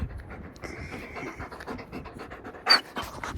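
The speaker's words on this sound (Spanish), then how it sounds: "Este perro no es mío, ¿eh? Es de un vecino" A neighbour's dog pants rapidly and steadily up close, its quick breathy rhythm continuing throughout with a brief louder huff near the end.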